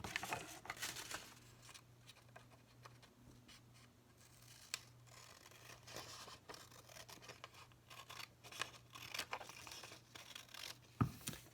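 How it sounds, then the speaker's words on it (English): Scissors cutting through folded paper in a quiet room, a series of close, soft snips and papery rustles at irregular intervals, ending in a sharper click. "So this piece right here, we are going to cut along this line."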